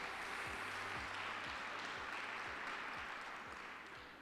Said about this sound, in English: Another round of applause for all of our grantee award winners.